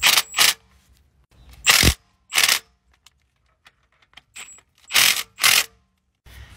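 A torque wrench tightens oil pump bolts on a 1997 Ram 1500 with a 5.2 Magnum engine, giving loud, close ratcheting bursts in pairs separated by quiet gaps and small metallic clicks.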